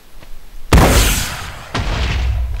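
In a Minecraft gun mod, an RPG rocket launches with a sharp blast, followed about a second later by a second heavy boom as it explodes; both are loud, close, and trail off into a rumbling decay.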